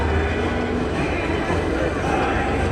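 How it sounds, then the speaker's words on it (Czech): Tracked tank engines in a wartime liberation reenactment give off a dense, continuous low rumble that stays steady and loud throughout, with broad mechanical noise layered on top. "Slyšíte to dunění tankových motorů."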